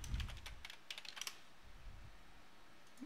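Computer keyboard typing, quiet and close, with quick irregular clusters of key clicks early on that thin out into near silence.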